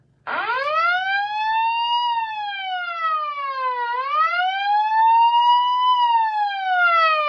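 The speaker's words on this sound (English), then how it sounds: "You fire up that alarm" A loud electronic alarm siren from a WinBridge M801 wireless microphone amplifier wails up and down in slow sweeps, close and continuous, starting abruptly after a brief low hum.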